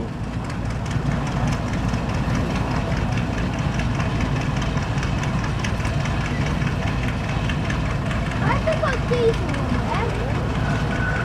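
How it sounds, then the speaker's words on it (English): Steam traction engine with a new firebox and a repaired boiler barrel, running at an old-time rally in Aldham: a steady, close, low mechanical throb and knocking that continues unbroken throughout. "It's had new firebox and some work on the boiler barrel, and Kevin keeps this in very good fettle."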